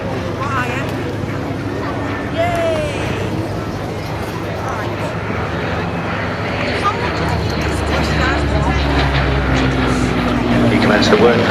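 A vintage Hawker Hurricane fighter flying at a seaside air show, its piston engine a steady droning rumble that slowly swells and grows louder as it approaches, with crowd noise faintly underneath.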